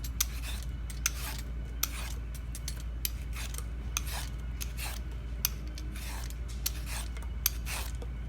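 A vegetable peeler strips wide peels from a zucchini onto a paper towel, making a steady series of close, rasping scrapes in a regular rhythm against a faint low hum.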